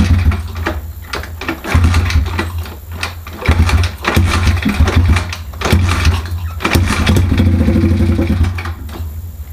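A Loncin 125 motorcycle engine with a clogged carburetor sputters to life, stumbles and catches again, then settles into a loud, close, rattling idle with uneven pulses.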